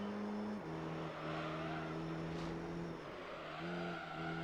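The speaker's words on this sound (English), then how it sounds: "Rally cars in this game just do not turn on tarmac." A rally car in Gran Turismo Concept 2002 Tokyo-Geneva drives on tarmac, its engine a loud, steady drone that drops in pitch at two gear shifts, with a faint scrub of tyres underneath.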